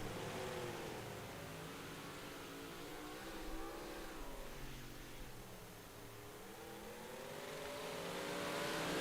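Race cars roar past on the Kokomo dirt track during a final heat race at a night sprint car event, a steady loud engine drone with rising and falling revs as the field circles the oval.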